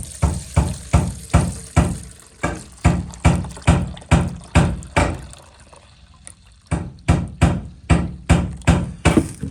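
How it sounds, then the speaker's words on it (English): Rainwater is scooped and poured into an ultrasonic cleaner in a rapid series of splashing pours, about a dozen close, rhythmic sloshes broken by a short pause midway, with no voices. "I'm gonna get a nice scoop of that and we'll dump it in our ultrasonic cleaner"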